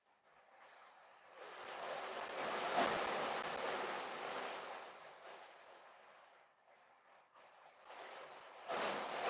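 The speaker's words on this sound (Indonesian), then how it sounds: "Ya ini barusan beberapa menit hujannya cukup deras." Heavy rain pours steadily at night as a dense, hissing wash with gusty swells, loud and continuous with no voices over it.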